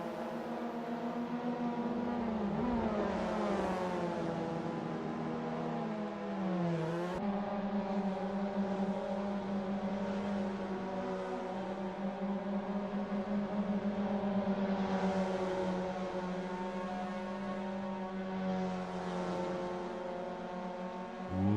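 Race car engines in a Formula-style sim racing game drone steadily throughout, several cars revving and shifting pitch close together, with dips and rises as they brake into corners and accelerate out.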